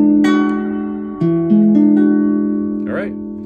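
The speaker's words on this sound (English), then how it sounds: "So make sure when you play this, it sounds like this chord." A chord strummed on a four-string cigar box guitar for a blues lesson, several sustained ringing notes with a shift in pitch partway, then a brief scrape near the end, heard alone and close.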